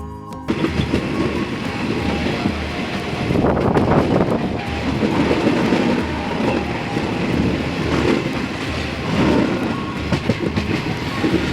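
A freight train rumbles past nearby, a loud, steady roar with rhythmic wheel clatter that swells and eases across the whole stretch, with no voices.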